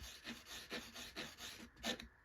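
A file rasps back and forth over a Belgian Browning 16 gauge shotgun barrel on a block, cleaning off burrs in faint, rhythmic close strokes about every quarter second.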